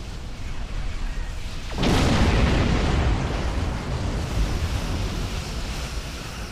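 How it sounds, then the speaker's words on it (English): A starship explodes in space combat in Star Trek Online, a sudden booming blast that swells into a long, loud rushing roar and slowly fades, with no talk over it. "Explosions are very cool"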